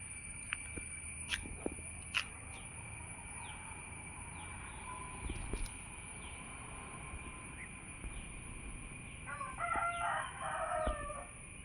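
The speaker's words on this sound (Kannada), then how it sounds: "ನೋಡಿ ಅದು ಕೋಳಿ ಕೂಗುದು ಕೇಳ್ತದಲ್ಲ" A rooster crows from beyond a stand of trees near a house, distant and moderately clear over a steady outdoor background hum, with faint bird chirps scattered around it.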